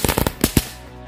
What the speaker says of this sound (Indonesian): kita nyalain mercon bunga teratai. Ini bisa berputar seperti gangsing